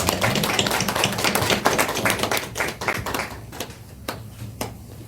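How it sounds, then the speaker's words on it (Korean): A church congregation at a Christmas service claps in welcome, dense overlapping applause that gradually thins into scattered individual claps near the end. "우리 먼저 박수로 환영하겠습니다."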